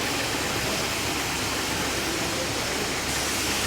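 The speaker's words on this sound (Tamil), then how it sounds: "நல்லா கிறிஸ்பியாக பொரிஞ்சு வரட்டும்." Potato french fries deep frying in hot oil, a dense, steady, loud hiss of bubbling and sizzling that fills the whole stretch without a break and with no talking over it.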